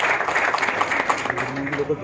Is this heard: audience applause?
yes